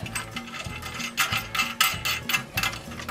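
Nut and washer being tightened onto a toilet bolt during installation, giving a close, quiet run of rapid ratcheting clicks and metallic ticks repeating in bursts for a few seconds.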